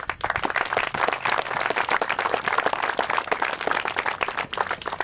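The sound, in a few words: audience applause at outdoor dedication ceremony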